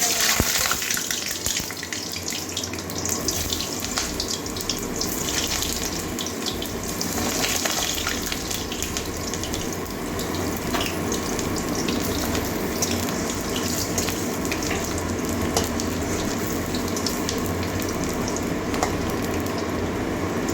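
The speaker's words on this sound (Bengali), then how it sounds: "তেলটা গরম হয়ে গেছে এই যে পটলটা" Pointed gourd frying in hot oil, a loud, dense and continuous crackling sizzle that holds steady close by from start to finish, with no talking.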